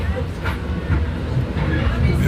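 Interior of a moving commuter train in New York, a steady low rumble and rattle of the carriage filling the space, loud and continuous with faint clacks and background voices.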